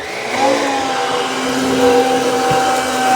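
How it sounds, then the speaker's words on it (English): A Shark Freestyle Max cordless stick vacuum runs at maximum suction, giving a loud, close, steady motor whine and airy roar that swells slightly as it moves over a mess. "I can pull the trigger and go to maximum suction. Let's do the Shark Freestyle."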